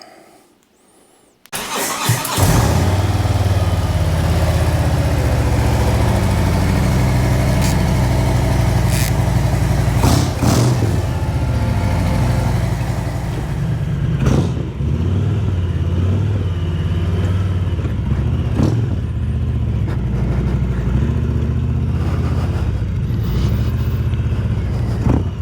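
A Harley-Davidson motorcycle engine starts up after a brief silence and then idles loudly and steadily up close, with a deep low rumble and occasional short revs throughout.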